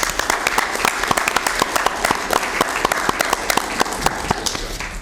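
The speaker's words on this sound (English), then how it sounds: "Round of applause." Round of applause at a county board of supervisors meeting, a modest group clapping with distinct individual sharp claps audible in an uneven, steady patter from start to finish.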